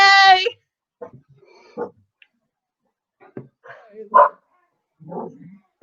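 Dogs bark indoors in scattered short bursts and yips, some sharp and close, others softer, with an excited voice cheering briefly between them.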